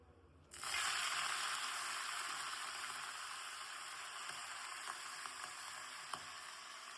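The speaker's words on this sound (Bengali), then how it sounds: "তেলটা গরম হয়ে গেছে, ধোয়া উঠছে। এবার শাকটা কিন্তু প্রথমে দেবো।" Leafy greens dropped into hot, smoking oil in a pan, a sudden loud sizzle that bursts in and then settles into a steady hiss with faint pops and stirring scrapes.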